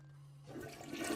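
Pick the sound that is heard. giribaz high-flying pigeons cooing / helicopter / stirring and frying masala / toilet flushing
toilet flushing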